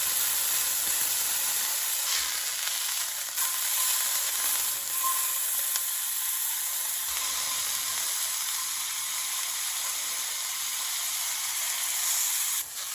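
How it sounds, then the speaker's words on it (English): Ribeye steak fat edges sizzle and render in a hot pan after a cold sear, a steady close frying hiss that holds for the whole stretch with small pops and crackles and no talking. "I'm gonna take the steak and I'm gonna get that fat on the edges rendered"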